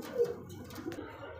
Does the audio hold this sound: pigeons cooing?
yes